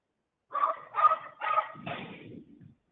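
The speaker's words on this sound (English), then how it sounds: "I am so sorry if you're hearing my neighbor's dog right now." A neighbor's dog barking at a home, four quick distinct barks in a row, the last one lower and rougher, fairly close and with nothing else around them.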